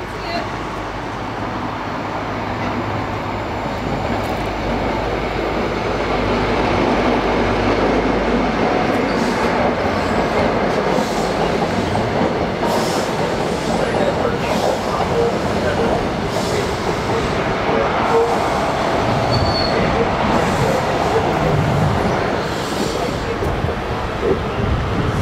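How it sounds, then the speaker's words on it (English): A loud train rumbles past nearby, a continuous heavy roar with rhythmic rail clatter throughout, and voices faintly underneath. "waits very patiently for a train"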